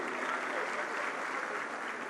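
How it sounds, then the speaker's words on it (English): A crowd at a political party manifesto launch claps in a steady, dense burst of applause that holds evenly for a couple of seconds. "A round of applause for him."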